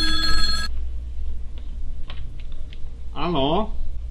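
A telephone gives one loud, bright electronic ring at the start and then stops. Soft scattered clicks follow, and a short warbling sound comes near the end.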